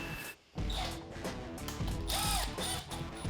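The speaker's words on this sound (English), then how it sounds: "Okay, now we're going to start torquing it down." A ratcheting torque wrench clicks rapidly and repeatedly at close range while tightening the main bearing caps on a Chevy engine block, with short pauses between bursts.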